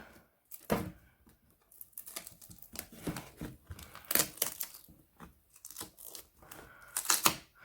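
A solidly packed parcel being opened and torn: bursts of ripping and crinkling paper or tape come in irregular close-up spurts, separated by brief pauses of handling.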